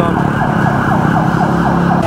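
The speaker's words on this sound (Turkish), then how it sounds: "Yola kapatmış polis. Ambulans falan da var burada." Ambulance siren on a Bangkok street, loud and close, its wail sweeping up and down rapidly and repeatedly over traffic rumble, with no talking.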